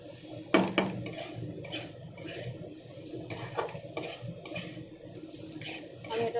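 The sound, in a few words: stirring pasta masala mixture in a bowl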